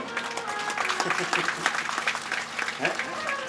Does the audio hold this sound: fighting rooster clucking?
no